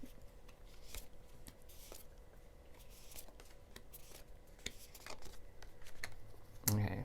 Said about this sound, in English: So I don't mind shuffling them